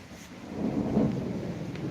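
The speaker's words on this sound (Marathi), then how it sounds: "वीज कडकडट आहे" Thunder rolling in the distance during light drizzle on an evening, a soft, low rumble swelling and fading over about two seconds beneath faint rain hiss.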